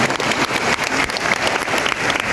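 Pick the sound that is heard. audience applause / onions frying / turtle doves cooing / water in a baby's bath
audience applause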